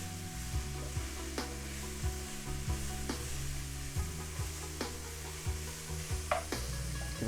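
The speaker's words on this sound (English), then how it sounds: "Give it a nice little stir" Dry thyme stirred into a pan of seafood rice: a spoon scrapes and knocks against the pan in repeated strokes over a steady low sizzle, close and fairly quiet, with no talking.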